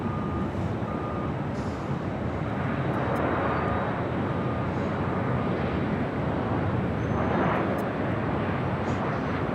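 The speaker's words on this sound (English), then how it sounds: "Headed to the next arrival, another Southwest. This time is 737 at MAX 8." A Southwest Boeing 737 MAX 8 arrives at LAX with a loud, continuous jet engine roar that swells slightly around the middle and end, heard from nearby with faint beeping in the background.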